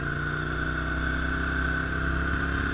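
A Hyosung GT 250R motorcycle engine runs at a steady idle nearby, a constant even hum with a droning tone and no change in revs.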